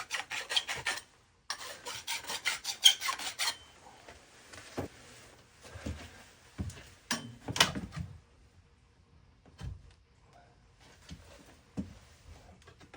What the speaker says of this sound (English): I like to use this to ream the pipe on both ends,